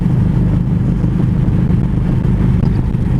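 Steady low engine drone from motorcycles cruising across the 7 Mile Bridge in the Florida Keys on a cross-country ride from Ohio to Key West, continuous and loud with rushing wind throughout.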